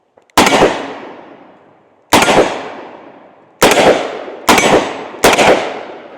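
A Smith & Wesson 686 Mountain Gun revolver with a 4-inch barrel fires five loud, sharp shots at uneven intervals, each crack ringing out and decaying before the next.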